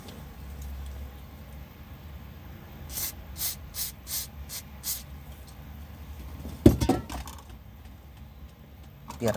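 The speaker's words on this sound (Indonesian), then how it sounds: "semprot aja nih pakai WD ini" WD lubricant is sprayed onto a stuck car handbrake mechanism in several short hissing bursts. Low mechanical rumble runs underneath, followed by a couple of sharp clunks near the end.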